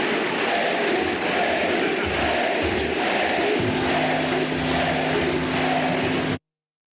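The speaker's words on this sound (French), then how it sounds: "Les ovations de la salle." A packed hall gives a loud, sustained ovation welcoming Senegalese President Bassirou Diomaye Faye before his inauguration speech, a dense continuous roar of applause and shouting that cuts off abruptly at the end.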